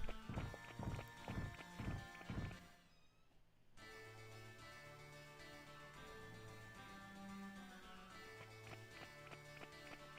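Rhythmic hoof clip-clop from a masked horse creature in the Digimon World video game, a quick run of loud, evenly spaced hoofbeats at the start, then a pause and tonal game music with no talking.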